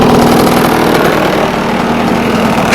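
An aging two-stroke engine runs steadily at idle, loud and close, with a constant buzzing drone and no voices over it.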